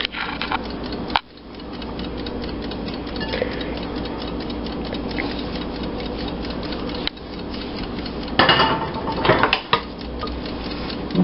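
Food is stirred in a baking dish during home freezer-meal cooking, with clinking, tapping and scraping against the dish, sharper clatters near the start and toward the end.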